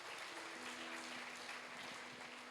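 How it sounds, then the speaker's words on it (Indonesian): A church congregation at an Indonesian-Korean Thursday service gives a steady, even wash of applause that continues throughout, with a faint sustained tone underneath. "Berikan tepuk tangan lagi yang meriah"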